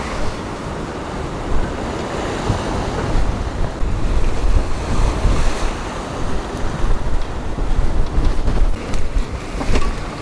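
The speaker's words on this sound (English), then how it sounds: "Freaking huge waves." A sailing boat rides out a North Sea winter storm as huge waves crash and surge against the hull and heavy wind buffets the microphone in loud, rolling bursts, with no voices.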